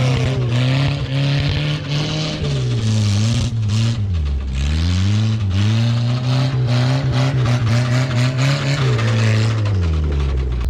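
A 1974 Datsun 620 pickup truck, with a slapping drive shaft, drives along loud and close, its engine revving up and down in rising and falling sweeps the whole time, with no talking.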